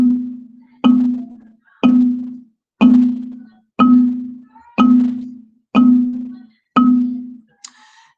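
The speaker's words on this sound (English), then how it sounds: "we have a second ostinato for Chumbalaka" A second ostinato pattern for the song Chumbalaka in a classroom music lesson, played as eight evenly spaced percussive hits, each a bright attack with a ringing decay, clear and close, with no talking.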